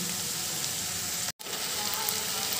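Tomato pieces fry in a pan for a chicken bhuna, a steady loud sizzle with a brief cut midway, no talking.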